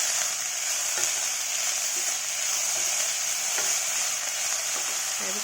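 Chopped banana stem frying in a pan gives a constant bright sizzle, with occasional soft stirring scrapes and taps, close and steady, with no talking.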